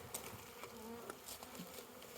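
Honey bees buzzing around an opened Flow hive, a continuous close insect hum with individual bees whining past the ear, alone without speech.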